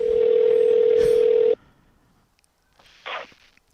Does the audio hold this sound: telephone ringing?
yes